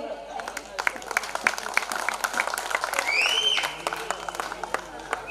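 Audience applause at a live Telugu folk song performance: dense, steady clapping from a crowd, with a rising whistle partway through and voices mixed in.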